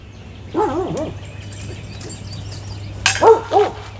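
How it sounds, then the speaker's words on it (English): Two short bursts of dog barking, one early and one near the end, with a steady low hum throughout and faint clatter between. "What are you barking at?"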